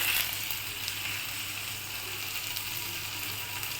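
Onion, tomato and green chilli fry in a pan with a steady, even hiss that runs through the whole stretch, loud and close, with no talking.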